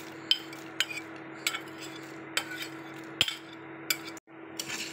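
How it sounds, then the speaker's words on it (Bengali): Fried bitter gourd and fried onion stirred together in a pan, with a soft steady background hum and a series of sharp metal clinks and scrapes from the utensil, spaced irregularly about half a second apart. "ভালো করে মিশিয়ে নেব।"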